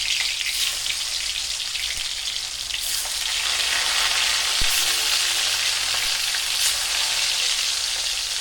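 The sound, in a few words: fish frying in a pan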